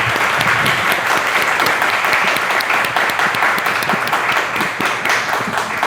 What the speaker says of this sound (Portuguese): uma salva de palmas então, gente